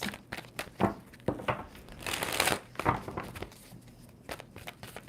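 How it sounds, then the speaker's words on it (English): A deck of tarot cards is shuffled by hand, a soft, quiet run of papery rustling and riffling bursts in an irregular rhythm, heard close with no talking. "Two more shuffles for Pisces."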